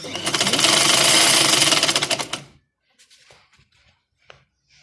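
A sewing machine stitches a fabric piece for a trouser-cuff design in a loud, fast, rattling run of about two and a half seconds, then stops, leaving faint handling clicks and rustles.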